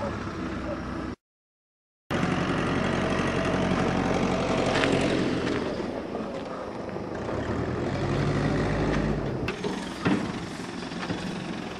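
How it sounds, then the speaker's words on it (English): Four old propeller fighter planes pass overhead near a farm, giving a loud, continuous, rumbling engine drone that holds steady throughout, swells with a deeper growl later on, and cuts out briefly near the start. "Four old fighter planes."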